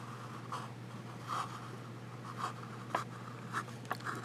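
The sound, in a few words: Fountain Pen Revolution Jaipur flex nib writing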